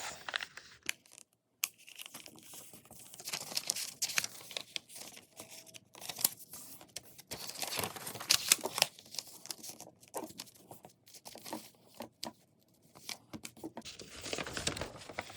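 Sheet of paper folded in half and creased along its lines, giving a run of close crinkling and crumpling rustles with short pauses, no talking.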